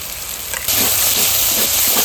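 Ground cashew and poppy seed paste hits a hot pan for a home-style mixed vegetable curry, bursting into a loud, steady sizzle and hiss after a brief quieter moment.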